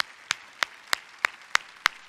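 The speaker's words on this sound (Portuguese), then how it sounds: "você pode aplaudir o Senhor pelas pessoas que nos visitam hoje?" Clapping at a church service, seven sharp, evenly spaced claps in a steady quick rhythm, crisp and fairly close, as if hands are clapping together in time, with a quiet background and no talk.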